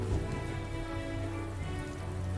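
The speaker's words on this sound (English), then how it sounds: "It's a rainy day." Rain in the video game Metaphor: ReFantazio, a steady, even wash of falling drops with a low ambient hum beneath, faint and unbroken throughout.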